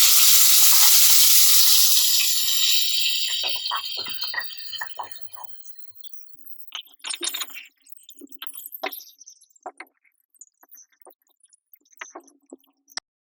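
A tomato, onion, red chilli and whole-spice puree for dhaba-style paneer masala curry hits a hot pan and sizzles loudly. The sizzle then fades into scattered stirring, squishing and light clinks of a spoon against the pan.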